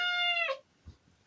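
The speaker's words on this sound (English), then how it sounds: "Is that not the loudest meow you've ever heard?" A pet cat named Lord Vader lets out one loud, drawn-out meow close by, followed by a brief soft thump and quiet.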